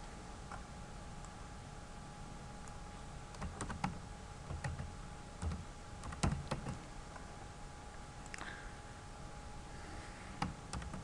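Computer keyboard being typed on while data is entered into SAP BW software, scattered soft key clicks in short bursts over a steady background hiss, close but faint with no talking.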